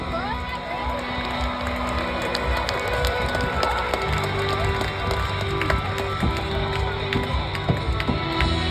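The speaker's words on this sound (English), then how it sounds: "Folks, how about giving a round of applause to Flow?" A crowd at a drag racing event at Norwalk motorsports park cheers and shouts in a dense, continuous roar, with mechanical clatter and voices mixed through it.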